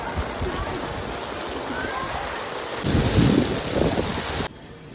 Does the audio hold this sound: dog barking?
no